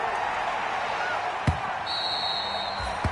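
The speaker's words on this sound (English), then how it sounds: "Following the made field goal for 3, Hopkins now to kick it off." Football kickoff in a PS4 video game: a single sharp thump of the kick rises over a steady crowd roar, with a second faint thud near the end.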